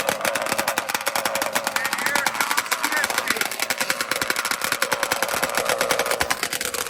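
Dirt drag racing engines roar loudly and continuously at a drag strip, with a rapid, pulsing mechanical rattle throughout.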